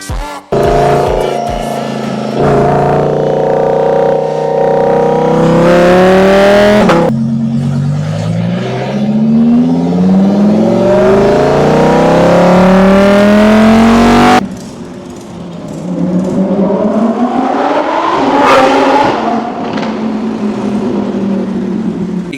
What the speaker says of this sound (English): finally we've done installing Gintani exhaust system for this beautiful Huracan. It sounds really good.